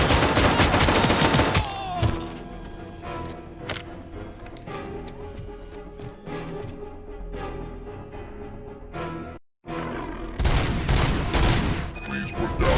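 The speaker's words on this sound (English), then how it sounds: "I am under attack from Ed 209." Heavy gunfire from the ED-209 enforcement robot in the RoboCop: Rogue City video game, a loud dense fusillade of automatic shots that rattles on continuously with a brief cut-out near the end before resuming.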